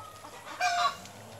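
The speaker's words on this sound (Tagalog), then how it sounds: "Then, pumupunta na lang po dito yung aking mga manok." Chickens being fed give a single short cluck, a brief, moderately close call rising out of quiet farmyard background.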